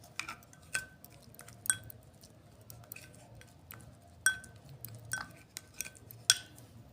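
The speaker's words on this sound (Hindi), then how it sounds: "इसमें आपको एफर्ट आती है ज़रा वैसलीन को मिक्स करने में" Turmeric powder, raw milk and Vaseline being stirred together in a bowl, with a spoon clinking and scraping against the sides in scattered light taps over a quiet background.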